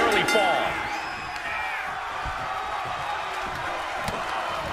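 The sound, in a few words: cheering arena crowd in the WWE 2K25 video game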